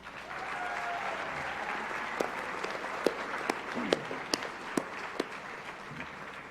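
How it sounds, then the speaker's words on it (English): Applause fills a room at a high school senior academic and athletic awards ceremony, a dense, sustained wash of clapping from a sizable audience, with a few louder individual claps standing out near the end. "Please give them a round of applause"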